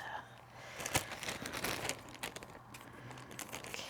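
A plastic shipping bag holding custom printed T-shirts crinkles and rustles as it is pulled open, with sharp irregular crackles and tearing snaps close by for a few seconds.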